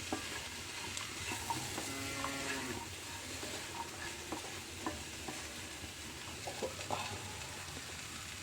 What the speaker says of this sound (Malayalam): നമുക്ക് നമ്മുടെ അരിഞ്ഞ് വെണ്ടയ്ക്ക് ഇതിലേക്ക് ഇട്ട് കൊടുക്കാം